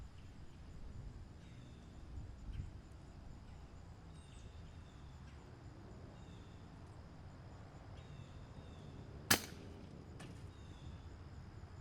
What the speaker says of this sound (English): Another clean shot to the head, not too bad.